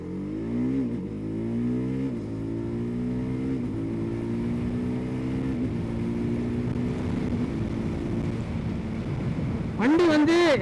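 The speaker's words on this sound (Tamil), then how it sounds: "இப்போ நான் வந்து ஸ்டாப் பண்ணிட்டு ஒரு பிக்கப் கொடுத்து பார்க்குறேன்" A TVS Apache RR 310 sports motorcycle pulls away from a stop, its engine note climbing through several rising rev sweeps with gear changes, loud and close, then a sharp high rev near the end.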